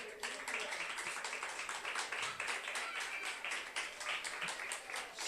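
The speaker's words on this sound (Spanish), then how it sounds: "Denle un aplauso a Cristo." A church congregation applauds during a worship service, with steady, rhythmic clapping that carries on evenly throughout and sounds somewhat distant and soft.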